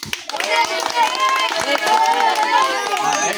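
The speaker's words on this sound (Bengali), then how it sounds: "ওর জন্য একটা হাততালি হোক।" A small group claps for a child, a patter of hand claps mixed with overlapping voices and chatter close by.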